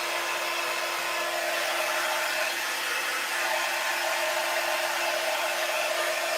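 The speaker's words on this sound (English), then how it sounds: "This little dryer." A hair dryer runs steadily with a constant whooshing roar and a faint motor hum, no voices, holding the same level from start to finish.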